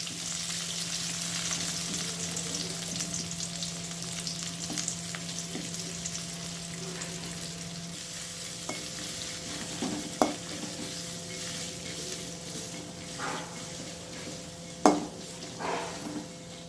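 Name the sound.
onions frying in oil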